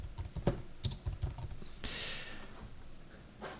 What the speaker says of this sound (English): Then you can start typing your post.